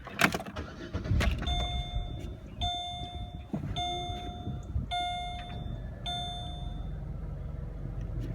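A 2005 Chevy Malibu Maxx sits in park with its engine rumbling low at idle, while a repeated two-tone warning chime dings over it several times.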